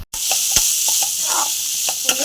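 Onions and green chillies fry loudly in oil with mustard seeds, a bright continuous sizzle punctuated by several sharp spoon or spatula knocks against the pan.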